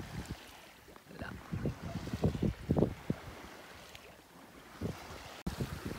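A sailboat under full sail on a calm sea off Corsica near the Pointe de la Revelata, with gusting wind buffeting the microphone and soft water washing against the hull, continuous and fairly close.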